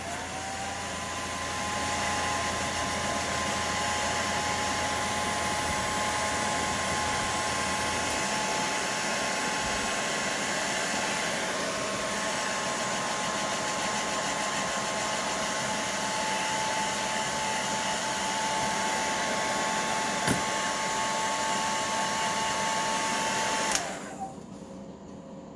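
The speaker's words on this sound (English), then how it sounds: "sorry about the hair dryer again." A hair dryer runs steadily in a workshop while custom fishing lures are being painted, a constant whirring blow with a thin high whine that holds for about twenty seconds before shutting off abruptly.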